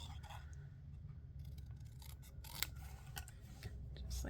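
Paper is trimmed with scissors for a Stampin' Up! card project, giving soft close snips and rustling that run steadily through the clip at a quiet level.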